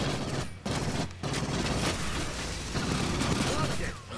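Dense, continuous gunfire from Aliens Fireteam Elite combat, sustained bursts with brief gaps, loud and close, with voices talking over it.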